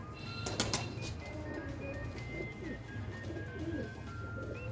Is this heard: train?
no